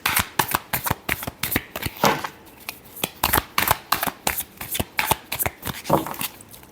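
A deck of tarot cards is shuffled by hand in a steady run of quick, crisp riffles and flutters, close by and with no one talking.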